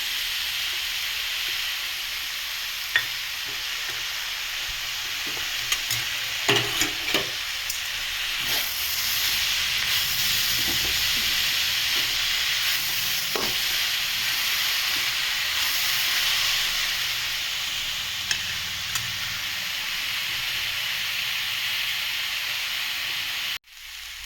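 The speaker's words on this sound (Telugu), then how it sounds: "క్యాబేజీలు అయితే ఇలా మగ్గుతుందండి" Shredded cabbage cooking in a pan with turmeric and tomato pieces, a continuous steady hiss of frying with scattered faint clicks and pops throughout.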